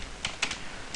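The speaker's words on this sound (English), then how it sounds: "Now we're just typing the format." Soft, close typing on a computer keyboard while writing Pawno code, a few light separate key clicks spaced irregularly over a quiet background.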